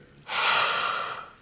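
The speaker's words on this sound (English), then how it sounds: "Quick breath in" A single quick, sharp breath drawn in through the nose during a breathing exercise, close and clear, lasting about a second with no talking.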